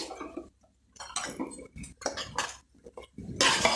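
Pressure cooker lid being opened after cooking pumpkin, with close metallic clanks and scraping in several bursts, ending in a louder, hissy rattle as the lid comes free.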